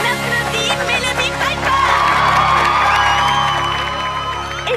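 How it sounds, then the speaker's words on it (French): A crowd in a French cartoon cheers and whoops for Mélodie, a steady burst of mixed voices and clapping that swells and holds at moderate loudness. "On applaudit Mélodie"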